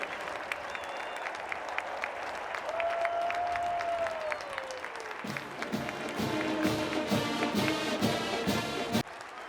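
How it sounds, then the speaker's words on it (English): A stadium crowd applauds at Clemson Military Appreciation Day, steady distant clapping that swells and thickens midway, with a faint jet-like whine sweeping across. "How about a big round of applause for these fellas?"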